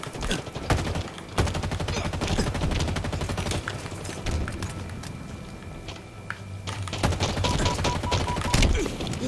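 Sustained gunfire from a Halo Infinite multiplayer match, with dense rapid bursts of shots and heavy impacts running almost continuously, loud and close throughout.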